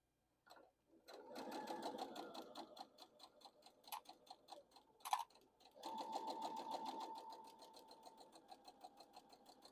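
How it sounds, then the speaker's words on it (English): A sewing machine stitches fabric along a marked line in fast, even bursts of rhythmic clatter, close up. The machine pauses briefly midway, then resumes its steady run, with no talking. "put your needle down, and then just sew right along that line that you made."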